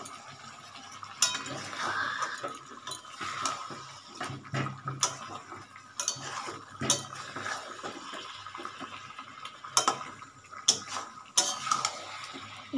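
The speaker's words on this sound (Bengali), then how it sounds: "আমি আবার নাড়বো।" Fried potatoes are stirred into a pot of chicken curry, a spoon scraping and clinking against the pot in uneven bursts with wet, soft squelches of the thick gravy between, close by.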